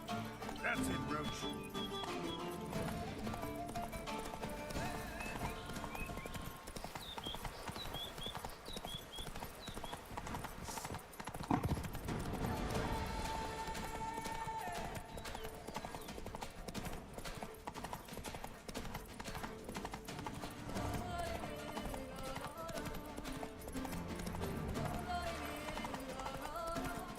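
Rhythmic clip-clop of the horse Roach's hooves galloping in The Witcher 3, quick steady beats running throughout alongside game music and ambience, with a brief louder hit partway through.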